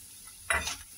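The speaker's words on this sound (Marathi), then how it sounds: "अजून याला थोडंसं परतून घ्यायचं आपल्याला" Potato mixture with turmeric and chilli being sautéed in a pan, a brief soft sizzle swelling up with a spatula stir over a quiet background.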